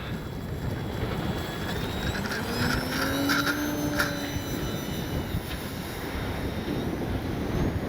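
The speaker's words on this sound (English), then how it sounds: "Feeling kind of sketchy about this because it's so windy" Strong gusty wind buffets the microphone in a steady broadband roar, while the thin whine of a small electric E-flite Piper Cherokee RC plane drifts through in the distance.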